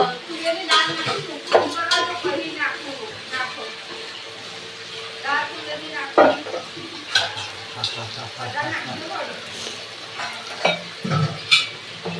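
Khichdi is tempered in a pot, giving a bright sizzle with repeated scraping and clanking as it is stirred. People talk over the cooking.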